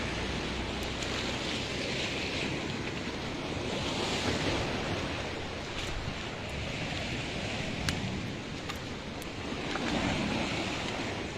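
Ocean waves washing against a crumbling concrete seawall on an eroding coastline, a steady roar of surf with gusty wind noise on the microphone, continuous and fairly distant with no voices.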